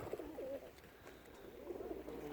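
Young flying pigeons of the murzyn breed coo in low, throaty rolling calls close by, repeated over a steady background murmur.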